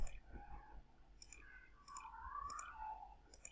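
A computer keyboard is typed on in quiet, scattered clicks, a handful of sharp taps spread over a few seconds while a soft voice speaks close by.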